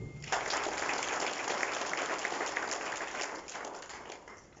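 Applause from the audience at the opening ceremony of the Expo Boullé 2021 at the Caudan Arts Centre in Port-Louis, greeting the acting tourism minister Avinash Tilak. Dense crowd clapping rises quickly, holds steady and then gradually thins out.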